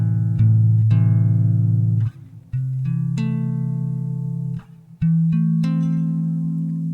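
Guitar chords in close voicing, sustained tones struck one after another in a slow sequence, each ringing clearly up close with a brief dip between strikes, no talk.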